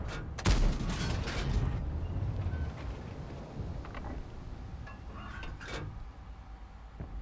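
Repeated tank cannon blasts and heavy impacts in World of Tanks gameplay, a loud burst near the start followed by rumbling battle noise and further shots, with no talking.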